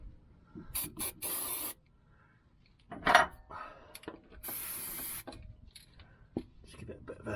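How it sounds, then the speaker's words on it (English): Short hissing bursts of copper slip spray aimed at replacement shock absorbers on a Vauxhall Movano van, several separate squirts of varying length with quiet gaps, close by, plus faint handling noises. "Copper slip spray."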